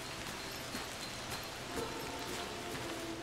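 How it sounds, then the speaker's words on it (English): Rain in the survival video game Among Trees, a steady dense hiss of falling drops with faint scattered patters throughout, and no voices. "I don't think we've ever seen rain in this game"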